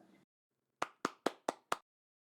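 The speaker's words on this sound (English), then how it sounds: "you can do clapping things just by clicking on your name" A virtual clapping sound effect triggered in an online meeting: five crisp, evenly spaced synthetic hand claps in quick succession, clean against near silence after a brief faint murmur.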